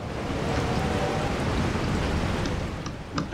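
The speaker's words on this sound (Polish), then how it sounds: "Znowu moment z deszczem." Rain in the video game Resident Evil 4 pours as a dense, steady wash of noise. A low rumble runs underneath, and a few sharper sounds come near the end.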